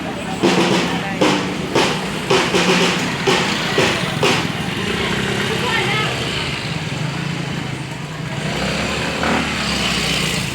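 Motorcycle engines run nearby at a religious holy-week gathering, a steady engine drone marked by a series of sharp thumps early on, with people talking over it.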